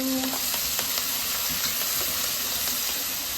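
Steady, dense sizzling of peanuts and asafoetida frying in hot oil for Gujarati-style poha, loud and close, with faint clinks and stirring noises throughout.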